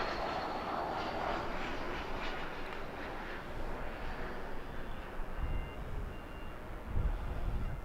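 Airliner landing at Los Angeles International Airport, a broad continuous engine roar and wind rush held steady throughout, with a faint high tone early on and a few low thumps near the end.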